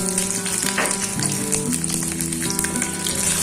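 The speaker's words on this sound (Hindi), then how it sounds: "गोल्डन ब्राउन होने तक फ्राई करेंगे।" Eggs frying in hot oil until golden brown, a dense continuous sizzle with crackling pops and occasional stirring, close and fairly loud with no talk.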